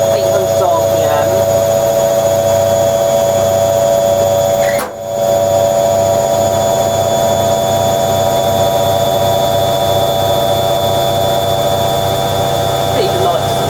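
A Hoover Logic 1300 washing machine spins laundry at 800 RPM with a loud, steady whine and rapid rhythmic drum thumping, broken by one brief dip in the middle before the spin carries on unchanged.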